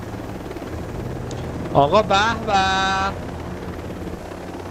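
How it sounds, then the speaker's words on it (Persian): A helicopter in a video game gives a steady rotor drone throughout, while a man makes short, loud vocal exclamations over it midway. "هلیکوپتر."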